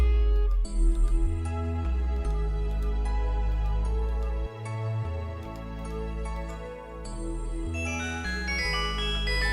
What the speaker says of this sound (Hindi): ये नोकिया का ओरिजिनल वाला रिंगटोन।